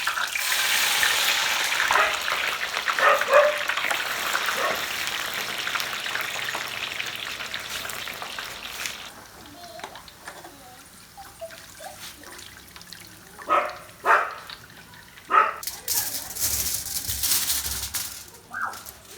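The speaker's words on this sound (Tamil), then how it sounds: "இப்போ நம்ம ஆனியன் ஃப்ரை பண்ண போகிறோம்." Sliced onions fry in hot oil for Hyderabad dum biryani, a dense hiss of sizzling that thins out midway into softer crackles, drips and occasional stirring scrapes.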